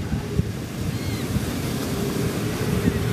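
Ocean waves washing onto a beach on a breezy day, a continuous surf roar with wind buffeting the microphone, steady and fairly loud with no talk.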